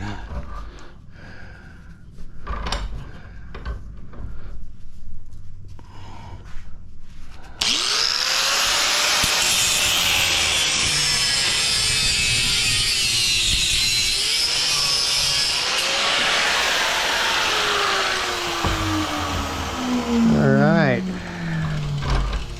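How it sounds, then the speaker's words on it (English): An angle grinder cuts brass and copper scrap clamped in a vise, a loud, sustained harsh grinding roar with shifting pitch as the disc bites, preceded by quieter clanking and someone talking. "I stick it in the vise too far, and then the body of the grinder hits on the edge of this"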